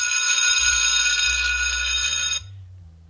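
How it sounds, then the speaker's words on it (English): A bell rings steadily and loudly as a class is dismissed, holding one continuous metallic tone for over two seconds before cutting off abruptly into near silence. "that's the same bell I used for the raccoon school"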